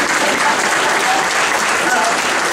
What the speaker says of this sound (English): You're getting a round of applause from the Treasurer